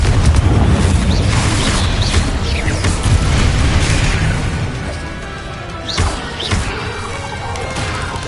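A Confringo explosive spell in a wizard video game booms and crashes loudly, followed by a dense rumbling burst and a couple of sharper impacts, with no speech.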